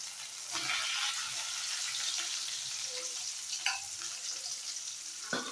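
Chopped onions frying in hot oil in a pan for a beetroot fry, a steady close sizzle with occasional stirring clatters and a sharp scrape near the end.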